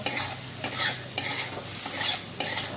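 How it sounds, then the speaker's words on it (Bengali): Chili powder frying in oil, a hissing sizzle with rhythmic stirring strokes and a few sharp clicks of a spoon against the pan, close and free of talk. "লঙ্কা গুঁড়ো ভেজে নেব"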